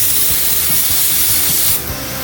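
A low-pressure spray gun lays primer onto a taped-off GMC Yukon truck, giving a loud, steady broadband hiss that eases slightly near the end, with no talking.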